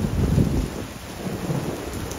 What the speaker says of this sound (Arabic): شوف المطر كيف، وربي انه فل